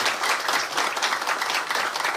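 An audience applauds His Holiness the Karmapa at the grand opening of a new building in Singapore, dense sustained clapping from many hands filling the hall for a couple of seconds.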